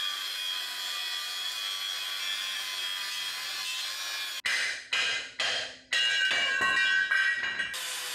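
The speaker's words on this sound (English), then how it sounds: "what I reckon is we're going to cut these tacks off, we'll sand them off" Steady, loud grinding on a race mower build, cutting and sanding off weld tacks, followed by several short bursts as the tool spins up and cuts in and out.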